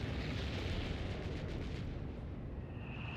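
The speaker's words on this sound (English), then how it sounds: "Great mine hits 3 units." Mine blast in Company of Heroes 3 striking three units during a 4v4 match on Red Ball Express, a steady rumbling roar of dense low battle noise throughout, with no distinct single burst standing out.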